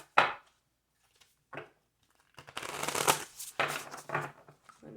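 Cards riffle-shuffled close up in quick rustling bursts, with a few sharp taps of the deck between them.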